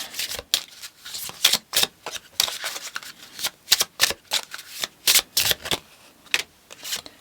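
Tarot cards shuffled by hand in quick crisp bursts, a steady series of riffling flutters and slaps repeating for several seconds, close and dry with no talk.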